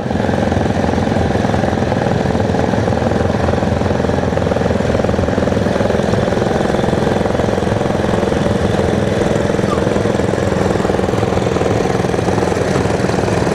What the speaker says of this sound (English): big old gas engine that's part of the club